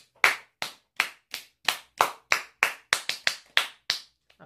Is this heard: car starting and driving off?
no